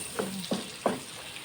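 Pork skin fries in its own rendered fat, crackling under three distinct spatula scrapes against the pan, evenly spaced and close.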